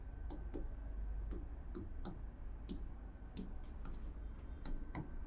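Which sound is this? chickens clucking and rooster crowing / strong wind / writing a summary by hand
writing a summary by hand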